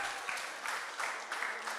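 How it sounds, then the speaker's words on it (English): Brief audience applause at a community parenting session, a short burst of scattered clapping at moderate level, heard alone. "Big hand of applause for Mr. Anderson."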